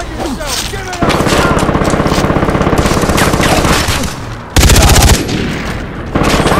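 Enemy gunfire in Far Cry 3, loud sustained automatic bursts in rapid rhythmic volleys, broken by a brief pause and a heavier close burst, with a voice faintly underneath.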